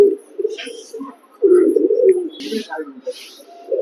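Close, throaty cooing from a chain pen pigeon and its flock after they land home, coming in repeated rolling bursts with short pauses, while someone speaks softly in between.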